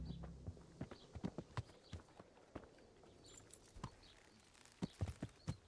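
Horse hooves clip-clopping at a walking pace in Kingdom Come: Deliverance, irregular crisp hoof strikes close by over a quiet background, with no talk.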